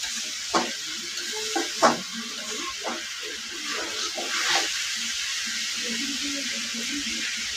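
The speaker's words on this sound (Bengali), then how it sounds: "আমি এখন মাছটি দিয়ে নিব" Fish frying in a pan for a home-cooked meal, a steady close sizzle with occasional stirring scrapes and clatter, no talking.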